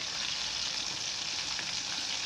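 Chicken bajji fries in hot oil, a dense, even bubbling sizzle that holds steady and close throughout with no breaks and no talk.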